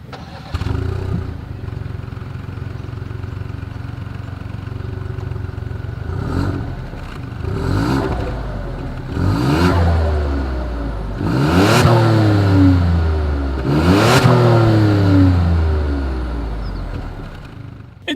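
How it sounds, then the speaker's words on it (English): A 2020 Ford Escape's exhaust rumbles at idle, then the engine revs up sharply three times in a row, each rise and fall loud and close, with the revs climbing higher toward the end. "here is that 2020 Ford Escape exhaust clip"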